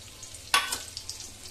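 Two bay leaves dropped into hot oil for paneer butter masala, a sharp brief burst of sizzle that quickly settles back into a quiet, low frying hiss.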